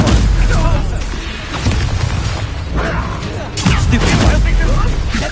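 Confringo blasting spell from the Hogwarts Legacy video game, dense booming bursts and crackling impacts over continuous loud combat noise, with a voice shouting over the action.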